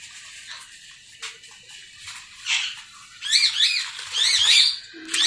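Pet parrots squawk and screech in harsh, repeated bursts, getting louder and more frequent toward the end, close by, with no talk over them.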